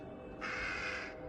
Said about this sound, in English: Oh no, I see a black crow.